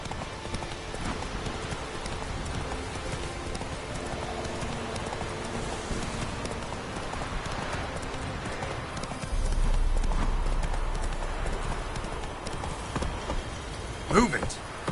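Hooves of a horse galloping in The Witcher 3, a steady clip-clop rhythm running throughout over faint rain and ambient game sounds, with a brief swell near the end and a voice speaking briefly.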